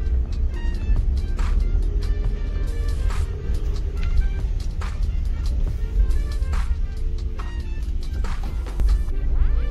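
Car traffic outside Banyuwangi airport in Indonesia: a steady low rumble of passing vehicles, fairly loud and continuous, with occasional brief higher clicks and noises over the engine hum.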